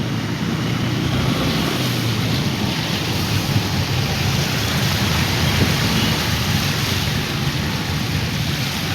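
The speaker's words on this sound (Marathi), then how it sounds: "थोडासा पाऊस जास्त झाला वाटला" Heavy rain pours down in a dense, loud, continuous hiss and patter on surfaces outdoors, steady throughout with a low rumbling undertone and no talk.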